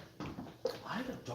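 A dog whimpers in a few short, high, faint whines heard close indoors, with soft talk and low background noise around them.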